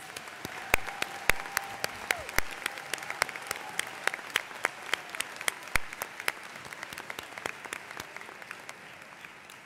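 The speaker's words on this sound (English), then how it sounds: "Please join me in another round of applause for all of the degree recipients." An audience at the Hood College 2018 commencement applauds the degree recipients. A steady wash of clapping with crisp individual claps gradually thins out toward the end, and a faint sustained tone sits underneath.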